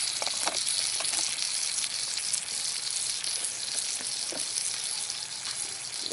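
Butter sizzling in a pan over a fire at a winter camp, a dense, even crackling hiss that runs loud and unbroken from start to finish, with no voices.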